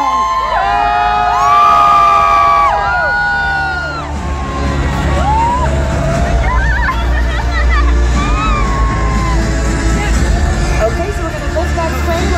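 A large crowd cheers and screams for Hollywood stars at a loud, sustained pitch, with shrill whoops, yells and babble throughout and voices calling out over the din.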